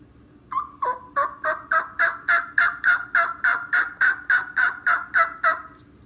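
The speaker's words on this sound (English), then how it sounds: "making a real light yelp" A series of about sixteen evenly spaced, raspy light turkey yelps made on a turkey call in a steady rhythm, close and fairly loud, with no other sounds.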